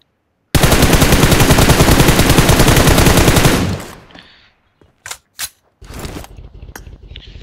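Loud, rapid automatic gunfire in a battle royale video game fires in a sustained burst of about three seconds, then tapers off and leaves a few short scattered bursts.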